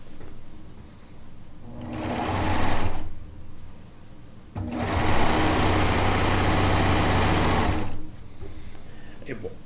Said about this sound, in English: While I'm using the cover stitch serger, the Euphoria and the chain stitch